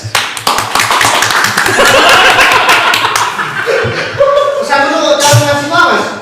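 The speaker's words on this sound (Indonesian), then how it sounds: "Tepuk tangan dong buat saya" Scattered hand claps break out among a small group at a campus podcast recording, mixed with chuckles and snickers while people keep talking close by.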